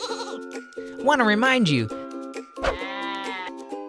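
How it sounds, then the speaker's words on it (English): Sheep bleat loudly and close by, with long wavering cries, while someone speaks at the same time. "these adorable sheep"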